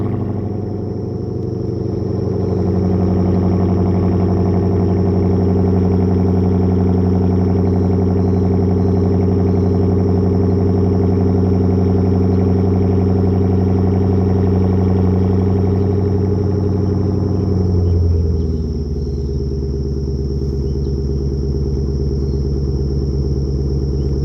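V8 Genesis sedan with a new X-pipe exhaust, cold-started: a loud, steady deep engine idle rumble holds high for about eighteen seconds, then drops to a lower, quieter idle tone.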